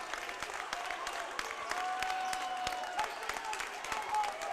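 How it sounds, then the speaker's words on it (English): Fans at a high school basketball game applaud after the final buzzer, sustained clapping from a sizable indoor crowd with cheers and scattered shouts, a commentator's voice running over it. "The fans are on their feet, giving them the applause."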